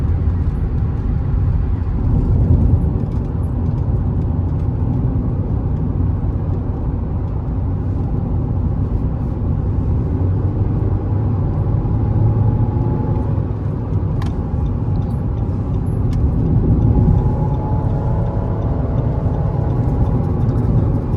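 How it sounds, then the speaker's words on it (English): Inside a 2017 Nissan Rogue at freeway speed, a steady low rumbling drone of wheel bearing and road noise fills the cabin continuously, loud and unbroken. "I just want to hear how bad that bearing noise is once we're up to freeway speeds"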